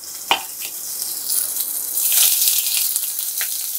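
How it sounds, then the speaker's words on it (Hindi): Chopped onions frying in hot oil for a masala egg omelette, a steady broadband sizzle that swells partway through, with a sharp clatter near the start and a few brief knocks, close and fairly loud. "तो ये प्याज को पहले भून लेते हैं।"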